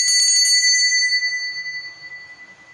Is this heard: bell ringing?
yes